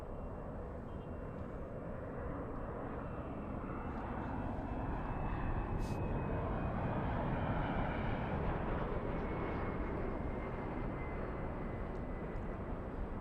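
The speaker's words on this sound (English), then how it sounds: "We have JetBlue 1124 flying to JFK." A JetBlue airliner passes overhead near LAX: a broad, steady jet roar that swells slightly and holds throughout, fairly distant, with no talking.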